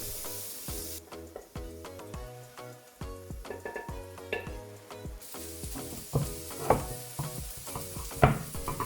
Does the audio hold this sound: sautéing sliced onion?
yes